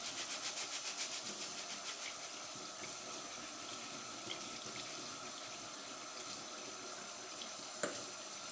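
Tap water runs steadily into a sink while rice is rinsed in the kitchen, a constant hiss with a faint clink near the end, no talking.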